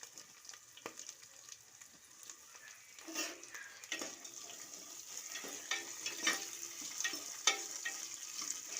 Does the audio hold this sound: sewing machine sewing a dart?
no